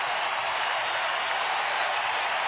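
A baseball stadium crowd roars in a steady, broad wash of cheering and applause during a Toronto at Detroit game as a full-count pitch approaches, moderately loud and unbroken throughout.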